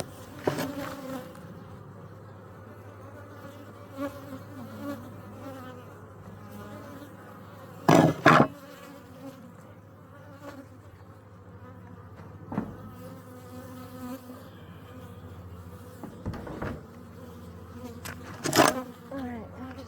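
Honey bees buzz steadily in a sustained drone at a hive being smoked while the brood box is checked, with a few sharp knocks and clatters of equipment cutting through near the middle and end.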